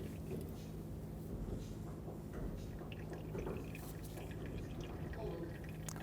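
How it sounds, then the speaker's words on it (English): Brake fluid and air bubbles drip from the bleeder screw on a 2000-2005 Ford Excursion during rear brake hose replacement, heard as faint, scattered drips and trickles under a steady low hum. "We're going to do this until there are no more air bubbles coming out of the bleeder screw."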